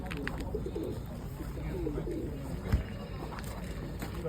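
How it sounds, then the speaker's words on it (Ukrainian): Pigeons, including a Mykolaiv breed, coo softly at a village pigeon and animal fair amid a steady low background hum, with faint rustling and a brief thump partway through. "ось тут у нас ще Миколаївські голуби"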